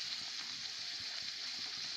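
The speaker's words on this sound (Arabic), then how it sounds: "هبتدي بقى دلوقتي احمرها في الزيت" Rice and chicken kofta frying in plenty of oil, a steady soft sizzle and crackle with faint bubbling, even and continuous at moderate distance, no voices.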